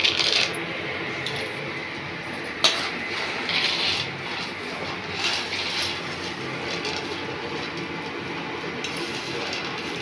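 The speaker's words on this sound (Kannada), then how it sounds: "ಫಸ್ಟ್ ಎಣ್ಣೆ ಹಾಕ್ಕೊಂಡಿದ್ದೀನಿ, ಅದಕ್ಕೆ ಕಡಲೆ ಬೀಜ ಹಾಕಬೇಕು" Peanuts tipped into hot oil for frying give a sharp initial clatter, then a steady bubbling sizzle with a few brief crackling bursts, close by and without talk.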